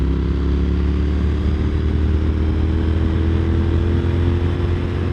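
A Kawasaki Z900RS with an inline-four engine cruises at speed, its smooth, steady engine drone mixed with heavy wind rush, loud and continuous throughout.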